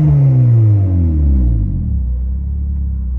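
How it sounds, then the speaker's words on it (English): A 9th-gen Honda Civic Si (FG4) with an Action Clutch Stage 2 is revved hard, then its engine note falls away into a deep, loud rumble as the revs drop toward idle. "I'll rev bomb it for you guys right now"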